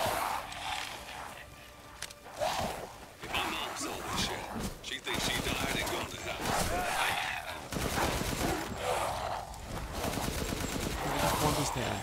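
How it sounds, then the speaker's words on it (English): Sustained rapid gunfire from shooting enemies in Resident Evil Village fills the clip, loud bursts and automatic fire running almost continuously with brief gaps. "just mindlessly walking forward and shooting things"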